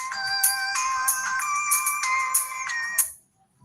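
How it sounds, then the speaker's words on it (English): A phone rings with a bright, repeating electronic ringtone, loud and close, for about three seconds before cutting off into near silence. "Yes, that's the phone."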